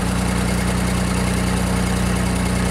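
A JLG compact scissor lift's engine idles steadily just after starting, a loud, constant low hum with a strong steady tone and even vibration throughout, no voices.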